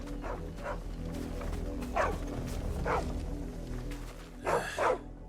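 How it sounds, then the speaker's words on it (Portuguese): Dog barks from a small dog in the video game Final Fantasy 16, several short yaps spaced through a busy game soundscape, with a louder double bark near the end. "Ah, é um cachorrinho."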